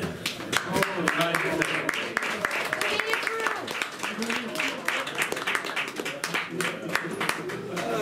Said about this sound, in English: The clapping made Sabina raise her head